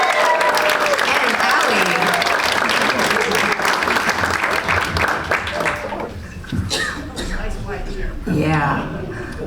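Loud, dense audience applause at a Spooky Empire fan convention Q&A panel welcomes Victoria Price, sustained for several seconds before thinning into scattered claps as voices speak over it.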